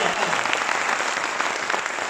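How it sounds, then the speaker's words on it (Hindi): Loud, dense applause from an audience at a business meeting fills the whole two seconds, a steady wash of clapping with no pauses. "ताली जोरदार वाली बजाएं, भरोसा करने के लिए"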